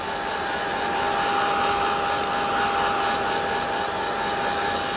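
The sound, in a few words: heat tool drying inks on a craft tag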